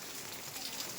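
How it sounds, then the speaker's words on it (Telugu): Rain falls steadily in the hills near a hilltop Shiva shrine, a brief dense hiss of drops close by, with no voices. "వర్షం పడుతుంది."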